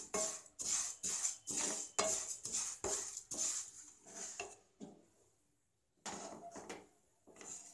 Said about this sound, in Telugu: సేమియా వేసుకొని లైట్గా రోస్ట్ చేసుకుంటాం.